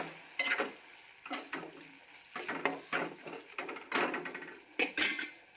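Tomatoes cooking in a pan for a green pigeon pea chicken curry, with irregular bursts of stirring, soft sizzling and a few clinks of a utensil against the pan, fairly close.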